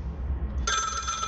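A telephone starts ringing partway through, a bright steady electronic ring that cuts in suddenly over a low background rumble, with no talking.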